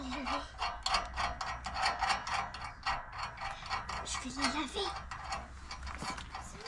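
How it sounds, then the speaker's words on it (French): Ratcheting clicks come in quick rhythmic bursts as a bolt is tightened back onto a Forst ST6P wood chipper, close and steady, with a voice speaking briefly partway through. "On remet le deuxième boulon."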